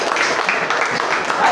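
Classmates applaud a student during a teaching-practice lesson in a classroom, a brief, dense patter of many hands clapping at once, fairly loud and close.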